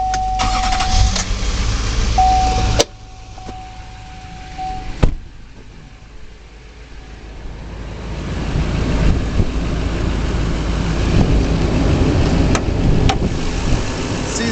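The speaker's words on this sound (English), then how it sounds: "Start it up." A lifted 2008 Chevrolet K2500 LTZ crew cab diesel 4WD pickup cranks over and fires, then settles into a loud, steady diesel idle that gradually builds and rumbles close by.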